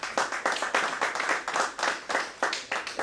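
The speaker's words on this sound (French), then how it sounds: "si on peut l'applaudir," Applause at a press conference for a man of God, a few pairs of hands clapping in bursts, with sharp repeated claps close by and a short, uneven rhythm.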